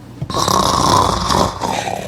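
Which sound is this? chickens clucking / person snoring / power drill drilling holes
person snoring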